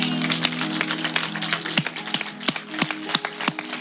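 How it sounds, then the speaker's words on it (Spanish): Congregation clapping in thanks to God during a church service, a loose spread of hand claps that sharpens into distinct rhythmic beats over a sustained musical drone. "Si damos un gran aplauso de agradecimiento a Dios por el dolor que estamos pasando"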